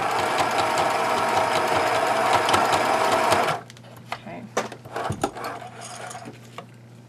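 Sewing machine tacks two folded, pressed fabric edges together with a fast rattling stitch run that stops abruptly partway through, followed by scattered clicks and handling noises.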